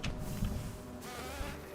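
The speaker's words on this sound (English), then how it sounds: "because big bees are hurting me for a lot of damage." Large bees buzzing in a Hollow Knight Steel Soul run on a hard mod, a steady insect drone with a sharp attack near the start, continuous throughout with game audio beneath.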